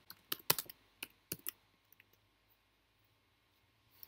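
Keys clatter on a computer keyboard in short quick bursts, a cluster of sharp clicks followed by a few scattered taps that trail off into near silence, quiet and close.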